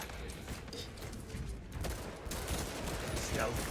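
Gunfire in the video game Space Marine 2, a dense rattle of shots and impacts within a noisy, rumbling battle mix.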